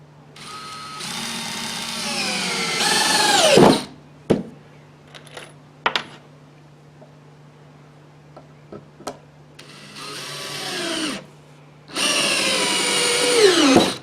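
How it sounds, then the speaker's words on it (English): Power drill driving 2.5-inch star-head deck screws into wood, two rising whirring bursts at the start and two more near the end, with clicks and small clattering knocks in the quieter stretch between. "So I'm going to put a couple of screws in there."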